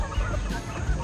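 A mother hen clucking close by in a brief, low burst lasting about a second, with no talking.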